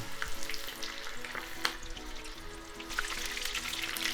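Tempura frying in hot oil for a soba noodle dish, giving a steady, close sizzling crackle that runs throughout with a few sharper pops and no voices.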